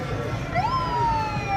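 Sirens sound from Rescue 112 ambulances driving in a parade, a wailing tone that rises and sweeps over a steady rumble of crowd and traffic noise.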